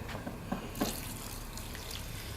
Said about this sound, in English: A bit of watering in.